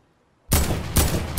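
Video game gunfire cracks out after a short silence, three loud, close bursts of shots in quick succession.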